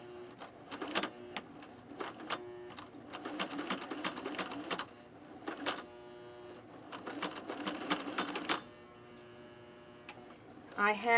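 A sewing machine stitches through leather while reupholstering a chair, with bursts of rapid mechanical clatter broken by short pauses as the needle is helped along, running close and fairly loud.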